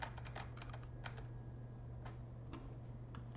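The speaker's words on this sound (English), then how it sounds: "I can hear Christian typing." Computer keyboard typing, faint and distant, with scattered quick key taps over a steady low electrical hum and background hiss, no voices present.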